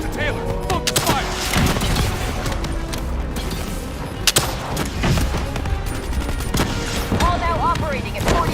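Gunfire rattles through a boss fight against a mech-armored enemy in Call of Duty: Black Ops 3, with dense overlapping shots and booms throughout, mixed with game voices and music.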